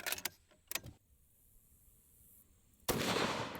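Gunshots from a pistol striking cinder blocks: sharp impulsive bangs near 0.1, 0.3 and 0.7 seconds, a quiet stretch, then a sustained loud broadband burst from about 2.9 seconds to the end.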